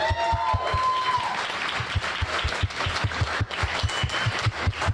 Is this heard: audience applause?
yes